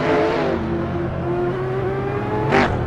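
In the racing game Assetto Corsa, a loud Lola T70 race car engine roars steadily at high revs, with a brief whooshing surge near the end as it passes close by.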